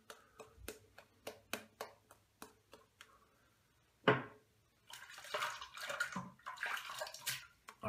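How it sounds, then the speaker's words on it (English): A wet-shaving razor rinsed under a running tap: a series of sharp taps and clicks at first, then a loud gush of splashing water that continues close by. "Third pass, rinsing off my razor again."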